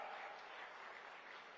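A crowd applauds for Kalidas Ji Maharaj at a state-level Sain Ji Maharaj Jayanti celebration in Ladwa, Kurukshetra, faint, even clapping heard from a distance.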